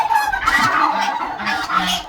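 Geese on a farm honk loudly and repeatedly at close range, their nasal calls overlapping over a steady outdoor background.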